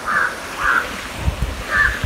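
Birds call beside a river, three evenly spaced harsh caws standing out over a low background wash of flowing water and rustle.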